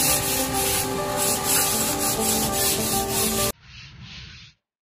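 A PVC door is hand sanded with number 400 sandpaper in steady, rhythmic back-and-forth rubbing strokes, close and fairly loud, then a short quieter stretch of rubbing before silence.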